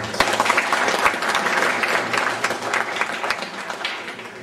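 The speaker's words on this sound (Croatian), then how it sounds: "da nagradimo još jedan put, znači jednim aplauzom, e, sve dobitnike ovih priznanja" An audience at a ceremonial academy event in Železno Polje applauds award recipients, with sustained dense clapping from a full hall, loud and steady throughout, slowly tapering toward the end.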